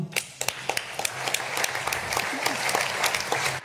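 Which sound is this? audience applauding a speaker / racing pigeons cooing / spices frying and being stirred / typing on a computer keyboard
audience applauding a speaker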